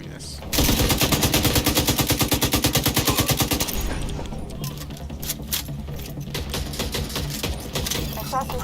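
A light machine gun in Tom Clancy's The Division 2 fires a loud, rapid sustained burst of roughly three seconds, followed by scattered game combat sounds and background noise.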